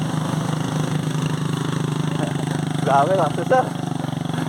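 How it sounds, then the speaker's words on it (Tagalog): A motorcycle engine labours up a steep climb on the Gulugod Baboy ascent, giving a steady, close, mid-pitched drone with no letup, while someone talks briefly over it. "Pakinggan nyo yung motor. Hirap na hirap."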